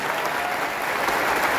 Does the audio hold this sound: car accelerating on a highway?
no